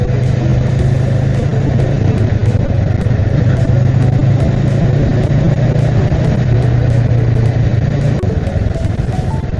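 A Honda Rebel motorcycle with its quiet stock exhaust rides along at a steady cruise, giving a continuous low engine hum under loud, constant wind and road rush with no voices.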